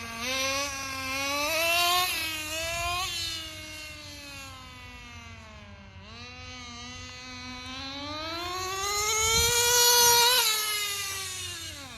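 A CEN Racing CT RC truck's nitro engine, freshly richened, screams steadily at high pitch, its note rising and falling as the truck passes by, loudest near the start and again toward the end, with no talk.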